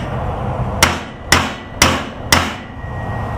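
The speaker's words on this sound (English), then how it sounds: "Now's the time you can test it with the hammer" A hammer striking a bushing on a 1977 El Camino, four sharp metallic blows at an even, steady pace, loud and close, with no talking.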